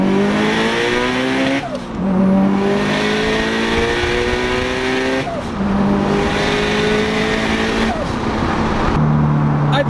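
A 700-horsepower turbocharged Subaru accelerates hard from inside the car, its engine climbing in pitch through three loud, rising gear pulls, each broken by a brief dip at the shift.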